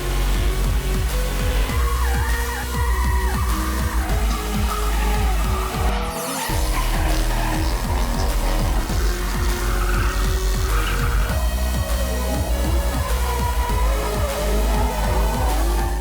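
Cars drifting at a drift exhibition in Australia, with tires squealing and skidding loudly and continuously under roaring engines, close by and with no talking.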